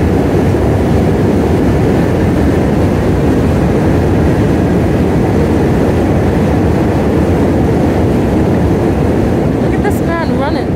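A train runs alongside a bike on the Manhattan Bridge, giving a loud, steady rumbling roar and rattle that fills the whole stretch, close by and continuous, with a brief high squeal near the end.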